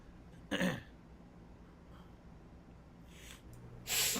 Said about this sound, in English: Big sniff.